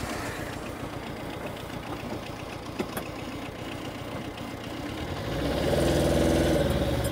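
A Tata Ace tempo stuck on rough off-road ground idles with a low, knocking diesel rumble, then revs louder and steadier toward the end.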